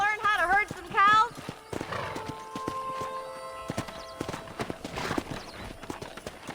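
Horses whinny loudly and trot with clip-clopping hooves in the video game Red Dead Redemption during cattle herding, a sharp neigh at the start followed by scattered hoof clops, with a voice talking over them.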